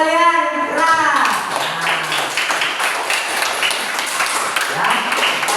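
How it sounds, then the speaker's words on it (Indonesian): A classroom of students claps together in a lively burst of applause, loud and close, with a teacher's voice briefly heard at the start. "Tepuk tangan dulu untuk kalian."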